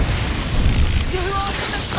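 Incendio fire spell cast in Hogwarts Legacy, a loud whooshing, crackling burst of flame filling the moment with a rumbling low end.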